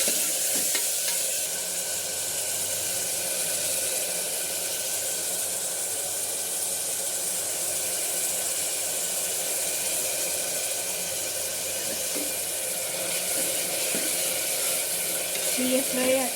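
Tomatoes and bottle gourd stir-frying in a pan, a steady, even sizzle with soft stirring scrapes that stays loud and constant throughout, with no voices.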